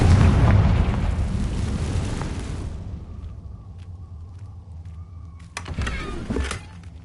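A Confringo spell explosion in a Harry Potter video game: a loud, booming blast that rumbles and fades over a few seconds, then a second, shorter burst near the end.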